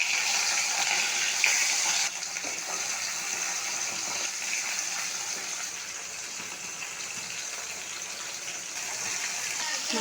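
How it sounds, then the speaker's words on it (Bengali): Fish sizzles as it fries in hot mustard oil in a wok, a steady, loud hiss and crackle throughout with a slight drop in intensity after a couple of seconds. "কড়াইতে তেল গরম হয়ে গেছে, একে একে মাছগুলি ছেড়ে দেবো।"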